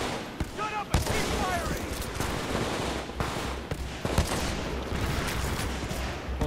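Dense, sustained automatic gunfire from a Titanfall 2 firefight rattles on throughout, with rapid overlapping bursts and a few sharper shot peaks, while a voice talks over the shooting.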